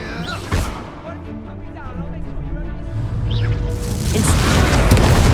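An Incendio fire spell is cast in Hogwarts Legacy, a booming burst of flame over a dense game mix of effects, with voices talking throughout.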